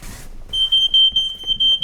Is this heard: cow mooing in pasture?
no